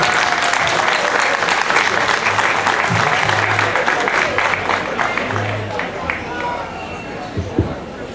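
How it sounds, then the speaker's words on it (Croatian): Loud, sustained applause from a village festival audience for the host folklore society KUD Sveta Ana Radikovci, a dense clapping wash that thins slightly toward the end, with a voice heard over it. "Molim vas, velikim pljeskom podržite domaćina KUD Sveta Ana Radikovci."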